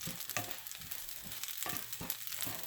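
Brown rice toasting in a hot pan, a continuous dry sizzle broken by regular scraping strokes of a spoon or spatula as the grains are stirred, close and fairly loud with no talking.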